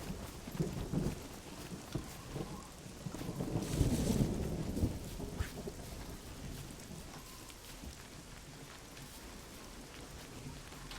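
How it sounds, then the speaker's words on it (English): Rain pattering steadily on a car in the survival video game SCUM, a continuous soft hiss of drops with a few louder gusts and low rumbles in the middle, otherwise even and fairly quiet. "If you stand beside the car, guys, you can actually hear the rain on it."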